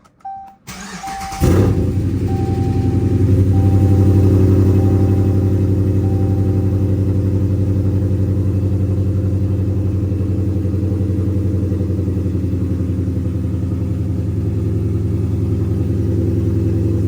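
A Chrysler 300C with a 5.7 Hemi V8 and an unlocked PCM tune cranks with a few warning chimes, fires up, and then settles into a loud, steady, rumbling idle that runs without a break.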